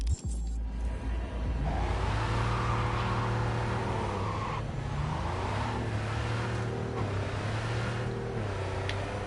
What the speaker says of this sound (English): There's quite a few cars on the road now